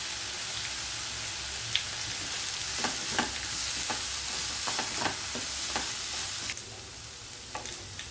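Tempering spices with onion and dried chillies sizzle in hot oil in a pan for a cabbage dish, a steady crackling hiss broken by repeated scraping stirs, close and alone with no talk.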